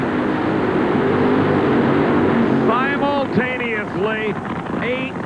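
NHRA drag racing cars, about 8,000 horsepower, launch off the starting line at Atlanta Dragway during the 1988 Winston All-Stars. A loud, sustained engine roar fills the opening seconds, then a commentator talks over the fading rumble.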